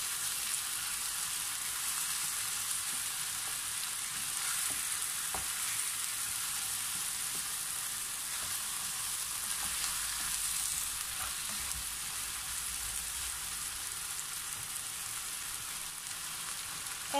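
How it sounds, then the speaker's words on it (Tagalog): Chicken curry frying in a pan gives a steady, close sizzle for over fifteen seconds, with soft scraping from stirring and no talking. "hahaluin po muli natin para naman hindi po siya magdikit sa ating lutuan"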